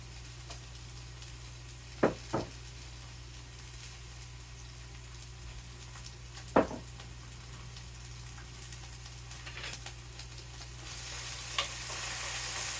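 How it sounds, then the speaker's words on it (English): Diced potatoes and poblano peppers fry steadily in a pan, a low continuous sizzle with a few sharp clinks of stirring near the start and middle, no voices over it. "So we want to cook 7 to 9 minutes, or until the potatoes are starting to brown"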